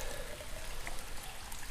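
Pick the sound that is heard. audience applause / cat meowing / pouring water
pouring water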